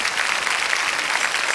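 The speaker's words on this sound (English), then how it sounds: "Give Jesus a hand clap." Steady hand clapping from a church congregation during a sermon fills the space at an even, moderate loudness, a dense wash of many claps with no pauses and no voices over it.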